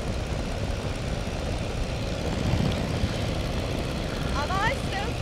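A de Havilland Tiger Moth biplane engine drones steadily in flight, a loud continuous rumble filling the cockpit, with a few faint higher chirps near the end.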